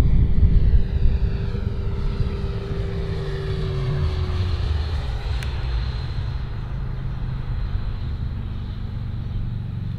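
Avios MiG-17 Fresco RC model jet making a low pass, a steady engine whine that starts loud and slowly fades as it moves away, heard alone with no talk.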